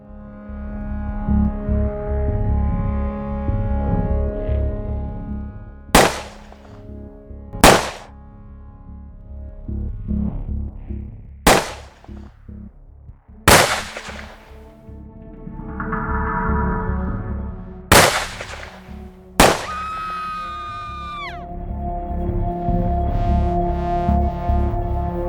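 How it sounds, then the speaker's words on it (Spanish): Six gunshots fired at John Lennon outside the Dakota building ring out as sharp, loud cracks, spaced irregularly over a steady musical backdrop. "recibió 6 disparos por la espalda"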